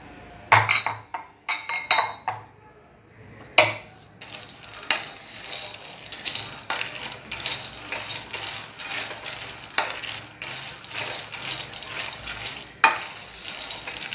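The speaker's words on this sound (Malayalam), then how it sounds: "ഒരു പാൻ വെക്കാം, അതിലേക്ക് നമുക്ക് ഈ കടല ചേർക്കാം." Raw peanuts are dropped into a metal pan with sharp rattling clinks. They are then stirred and roasted, giving a steady scraping and rustling with occasional louder knocks of the spoon against the pan. No one speaks.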